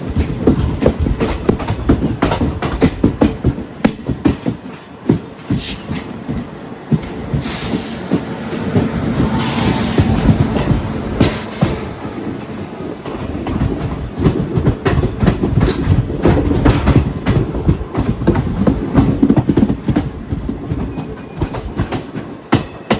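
A passenger train runs past on the Konkan Railway, a loud and steady rumble with rhythmic clickety-clack from the wheels and a faint hiss that hold close for the whole stretch.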